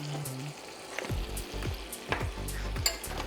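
Cherries cook in butter with a pinch of salt in a pan, a steady soft sizzle broken by several low scraping stirs and clinks, close and moderately loud with no talking.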